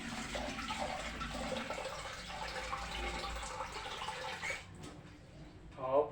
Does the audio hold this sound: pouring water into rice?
yes